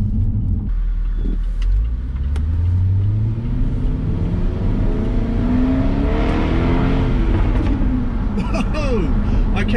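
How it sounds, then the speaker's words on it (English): A Jaguar XKRS with a 5-litre supercharged V8 revs hard, its exhaust rising and falling in loud sweeping pulls close by, with a person's voice over it. "first impressions is that the exhaust sounds absolutely awesome"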